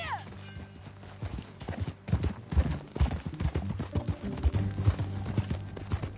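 Horse hooves clip-clop rhythmically at a gallop in the video game Red Dead Redemption 2, fairly close, with a short whinny and scattered sharp knocks over a low ambient bed.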